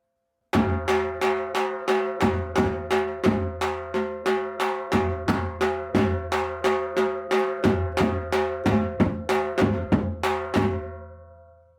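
A dhol drum plays the eight-beat Chaal rhythm in straight, even time, a steady run of loud, close strokes with booming bass and sharp treble slaps, heard alone for about ten seconds before ringing out.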